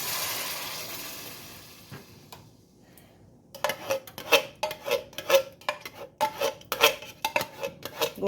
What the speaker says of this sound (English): Go ahead and mix my sauces in.